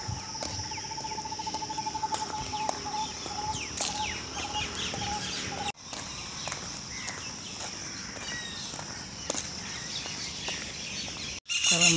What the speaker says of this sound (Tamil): காலையிலே இந்த பறவைகள்லாம் சத்தம் கேட்கும் மனசுக்கு எவ்வளோ அமைதியாக இருக்குது